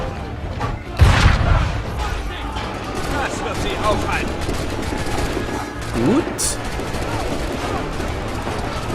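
Cannon fire in Assassin's Creed 3, with a heavy boom near the start followed by lingering rumble and battle noise, while people talk over it.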